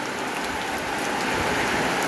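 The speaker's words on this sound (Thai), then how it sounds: "รอให้ฝนหยุดอีกจักหน่อยก่อน" Steady, dense rain falls continuously, loud and close, a constant hiss of drops on surfaces with no pauses.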